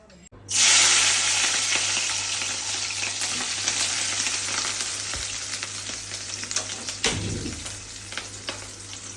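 Shol fish, carrying roe, is slid into hot oil and fries with a loud, steady sizzle that starts abruptly and hisses on continuously, with a brief stir or clatter partway through.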